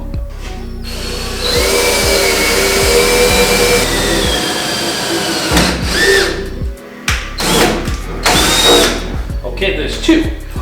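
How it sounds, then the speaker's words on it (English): A power drill drilling 1/8-inch holes in a car to fit a spoiler whines in repeated bursts, rising and cutting off, with scraping and clunks of the tool between runs; close and fairly loud. "That's where I'm going to drill my 1/8 holes"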